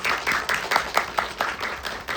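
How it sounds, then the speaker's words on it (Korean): Audience applause at a film screening Q&A for a short film showcase, a steady run of clapping with repeated bursts lasting a couple of seconds, moderately loud and without speech over it. "박수 한번 부탁드리겠습니다"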